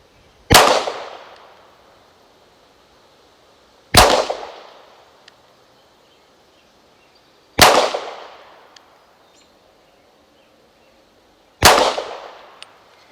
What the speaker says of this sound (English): Here we go, 4 shots from 25 yards.